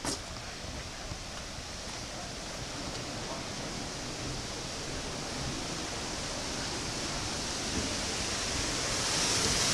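Water from the creek rushes through the wooden flume feeding the Cedar Creek grist mill, a steady, loud, broadband roar that holds unbroken for the whole stretch and swells slightly toward the end, with no voices.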